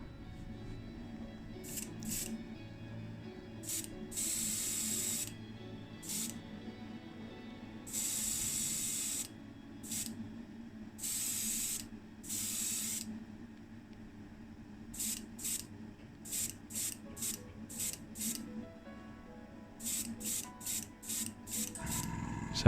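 Bursts of hissing spray from an airbrush applying paint thinned with Mr. Colour Leveling Thinner to a Matchbox Jeep No.72 during restoration, in short repeated blasts of varying length separated by brief pauses over a quiet background hum.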